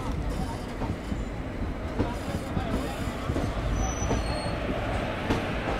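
Sampark Kranti Express train at Ambala Cantt junction, a steady broadband rumble of rolling rail cars with faint wheel squeal, continuous and fairly close throughout.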